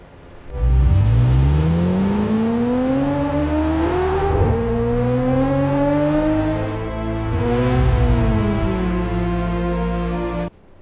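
A car engine revs up hard and accelerates, loud and close, the pitch climbing steadily, easing briefly, then climbing again for about ten seconds.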